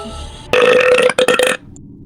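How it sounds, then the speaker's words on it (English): A single loud, close burp, deep and drawn out for about a second, with a short break partway through before it trails off into quiet room sound. "Big burp."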